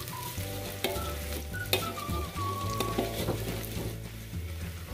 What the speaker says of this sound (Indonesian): ini aku oseng bawang putih dan bawang merahnya nyampe berbau harum dan layu ya